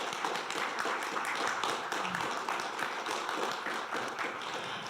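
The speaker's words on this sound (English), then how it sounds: "Let's give them a round of applause." Sustained applause from a live audience at a community gathering, dense and steady clapping filling the room for several seconds with a faint murmur of voices beneath.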